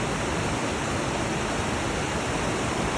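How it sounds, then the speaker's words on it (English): Steady, full-bodied rushing of the West Lyn river at Lynmouth tumbling over rocks, constant and close with no pauses or voices. "I love the sound of rivers going over rocks."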